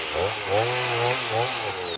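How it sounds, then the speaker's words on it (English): An Oregon 40V PowerNow battery electric chainsaw runs with a steady high whine and a low hum, close and continuous, while a voice briefly sounds over it. "these little Oregon electric chainsaws, even Peanut and the other guys couldn't believe they really worked"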